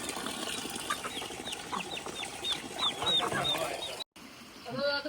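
A hen and her chicks on a farm in the Malenadu region: steady clucking mixed with high chick peeps, close by, continuing through most of the clip with a brief gap near the end.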